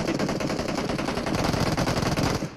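Rapid machine-gun fire in a four-versus-four car combat video game, a loud steady stream of closely spaced shots that holds for a couple of seconds before cutting off, nobody talking.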